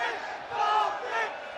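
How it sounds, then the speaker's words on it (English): A crowd at a live professional boxing event cheers the fighters with a loud, rolling roar that swells and eases over a second and a half. "A good selection of fans cheering on their charges."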